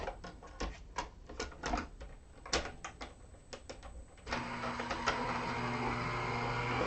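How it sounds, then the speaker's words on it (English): A manual die cut machine cranks paper and a metal die held by a Post-it note through its rollers, with sharp clicks and clunks at first, then a steady grinding hum that holds, close and moderately loud. "now we're going to run it through our die cut machine"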